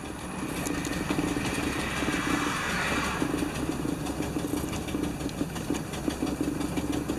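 A 1975 Lincoln Continental engine runs held on the gas, a steady rough mid-pitched rumble with slight knocking irregularity, close and continuous without voices.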